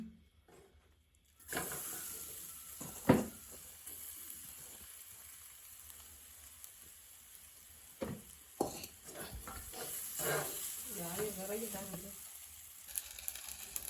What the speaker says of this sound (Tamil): இந்த நெய் வறுத்ததுக்கே இந்த மரவள்ளி சீவலையும் போட்டு வதக்க போகிறோம்